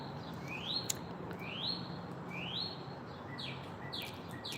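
Three clear rising chirps from a pet bird come at an even pace, close and distinct, followed by softer twitters over a low indoor hiss.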